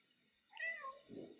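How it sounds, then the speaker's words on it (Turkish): A cat meows in the video game Stray; a single short meow, clear and fairly faint, with no talk over it. "Nereden miyavlıyorduk?"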